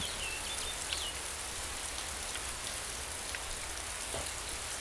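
Steady rain in the survival video game DayZ, a dense, even hiss of falling drops that fills the whole stretch, with a few faint bird chirps near the start.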